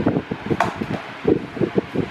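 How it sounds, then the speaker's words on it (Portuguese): A Britânia Ventus 30 Six electric fan runs at maximum speed, giving a close, fluttering whir that pulses in uneven bursts over a low hum. "Eu tô falando e o ventilador no máximo ainda pra câmera."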